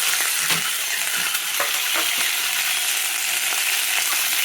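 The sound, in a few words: frying and stirring food in oil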